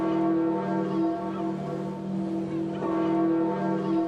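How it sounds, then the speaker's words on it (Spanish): Deep, sustained church bell tones ring out for a papal funeral mass with a long resonant hum, strikes swelling and fading over a steady low drone, heard from a distance. "El eco de las campanas parecía marcar el pulso de un mundo que se detenía"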